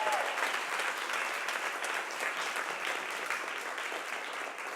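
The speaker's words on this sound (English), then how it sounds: "can we just very briefly give Gail another round of applause?" An audience at a closing event applauds Gail with steady, sustained clapping from a crowd, moderately loud and continuous throughout.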